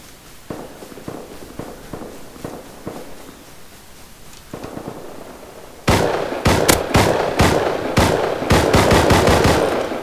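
Pistol gunfire in a video game, a run of sharp shots at a steady rhythm with footsteps under them. The shots grow louder and come in rapid clusters partway through.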